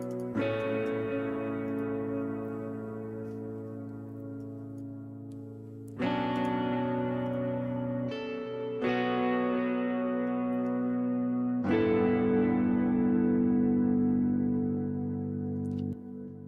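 Electric guitar strummed through a heavy distortion effects preset during metal play, sustained ringing chords struck again every few seconds, loud and thick with no talking.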